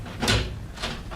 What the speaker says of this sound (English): But before I could press the bell, the door opened.